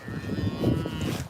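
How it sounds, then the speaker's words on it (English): A big cow moos once in a loud, low, drawn-out call that carries across open farmland near a metal detecting site, heard alone without talking. "Moo cow."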